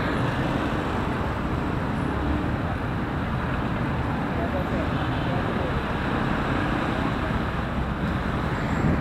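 Dense, steady roar of a heavy traffic jam on a Bogotá road, with buses and cars rumbling continuously at close range throughout and no distinct breaks.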